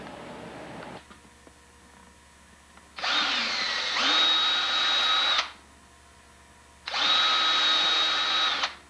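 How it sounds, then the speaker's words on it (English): Power drill boring holes into a handmade snowshoe frame, two loud sustained bursts of whining motor, the second after a short pause, with quieter handling noise before. "Now I have to drill my holes here to put the rubbish"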